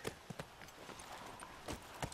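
Horse hooves clip-clop in The Last of Us, a handful of sharp, close steps in an uneven rhythm over a faint background hum, with no speech.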